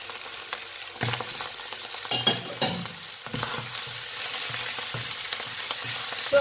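Fried rice stir-frying in a pan as tomato goes in: a steady sizzle with repeated scraping and tossing strokes of a spatula, fairly close.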